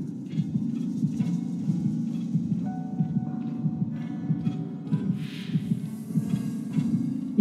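Steady low throbbing heartbeat from Dead by Daylight, a survival horror video game, pulsing continuously at a fast even rhythm with faint game effects layered above.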